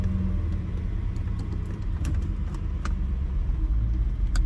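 A 2002-2005 Ford Thunderbird engine runs at a steady low rumble close by while the car is shifted into gear, with faint clicks from the shifter and cabin.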